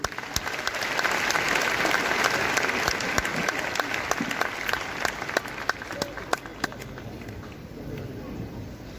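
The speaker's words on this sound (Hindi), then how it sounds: "तो एक बार जोरदार तालियां इनके लिए।" An audience breaks into loud, sustained applause, dense clapping from a crowd that holds steady for several seconds before thinning slightly near the end.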